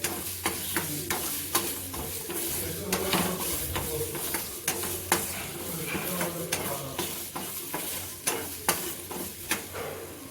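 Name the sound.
tomatoes frying in a pan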